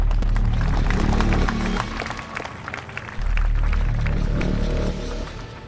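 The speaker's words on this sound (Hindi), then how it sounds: "तालियां।" A crowd at a wrestling match applauds and cheers, a dense continuous wash of clapping that dips briefly and then swells again, with shuffling and movement beneath it.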